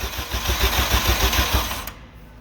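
Starter cranking a Honda K-series engine swapped into an EM2 Civic, a steady rapid whirring chatter at close range that runs for about two seconds and then cuts off abruptly.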